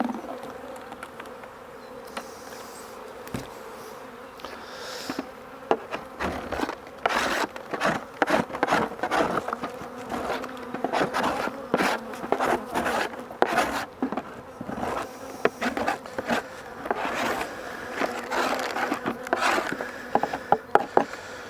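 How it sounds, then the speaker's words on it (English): Bees buzz continuously around an open beehive during a spring inspection, with close, fluctuating drones as individual bees pass near, plus occasional scraping and handling noises. "just knock the bees off."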